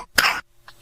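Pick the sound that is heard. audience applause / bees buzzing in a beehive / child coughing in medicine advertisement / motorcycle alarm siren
child coughing in medicine advertisement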